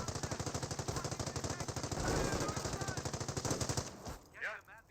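Rapid machine gun fire from the Company of Heroes 1 strategy game, a fast steady rattle lasting about four seconds before cutting out, followed by faint clatter.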